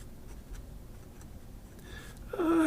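A TWSBI Obsidian fountain pen written in reverse scrapes scratchily across paper, a faint dry rasp that grows louder and rougher near the end, with no talking.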